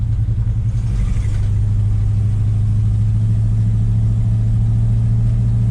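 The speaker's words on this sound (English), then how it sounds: "there's a car pulling over to the mailbox." A car idles and rumbles nearby beside a junkyard, its steady low engine drone holding continuous throughout, with a slight swell near the start as it pulls over toward a mailbox.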